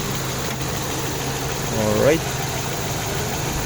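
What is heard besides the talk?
2020 MG car engine idling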